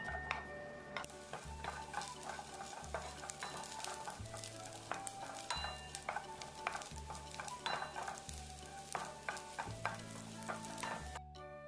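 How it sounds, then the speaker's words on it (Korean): Sliced garlic stir-fried in a little cooking oil in a pan preheated over low heat, for a Korean holiday side dish: steady close sizzling with repeated scraping and clinking of a utensil against the pan, no talk. "이어 약불에 달궈진 팬에 식용유 약간을 두르고 썰어놓은 마늘을 볶아줍니다"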